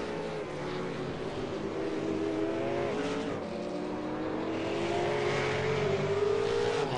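V8 Supercar race cars accelerate around the Zolder circuit in a steady, loud engine roar, the pitch climbing and shifting as the cars power on, heard from a distance as one continuous drone.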